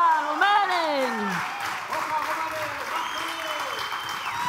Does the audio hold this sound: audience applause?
yes